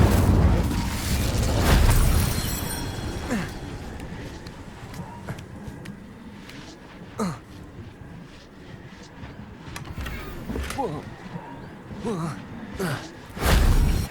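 An Incendio fire spell cast in the video game Hogwarts Legacy bursts with a deep, loud whoosh and rumble, followed by scattered thuds, footsteps and small pops, then another heavy burst near the end. A voice speaks over parts of it.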